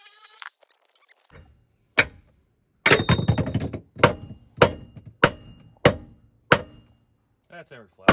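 Metal being hammered flat with a hammer: a series of sharp, loud metallic strikes spaced about a second apart, close by, with a dense burst of clattering in between and brief voices.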